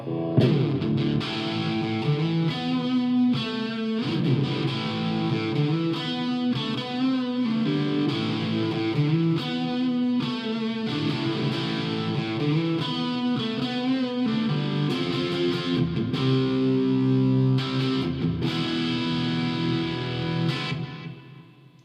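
An electric guitar on its bridge pickup, run through distortion and effects, plays a long, continuous riff of chords and single notes, loud and alone with no voices over it.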